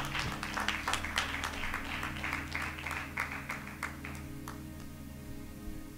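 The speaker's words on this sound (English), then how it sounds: "give the Lord a hand clap of praise" A church congregation claps in praise, a dense patter of hands over a steady low hum that thins out and fades toward the end, with a few scattered claps trailing.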